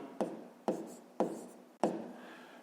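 Pen strokes scratch on paper during a 5th-grade maths multiplication exercise, four distinct rasping strokes in a steady rhythm, each a sharp onset fading out, close and alone.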